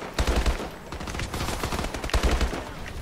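Rapid bursts of automatic fire from the Elite gun in Call of Duty Advanced Warfare, loud and close, with several clusters of quick shots and a dense battle din between them.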